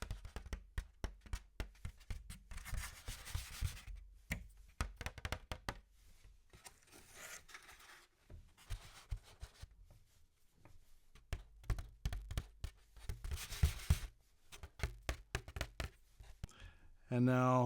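Fingers touching and tapping a Pathé Actuelle gramophone diaphragm held up by hand, close quiet knocks and thuds in irregular clusters with handling rustle and pauses between.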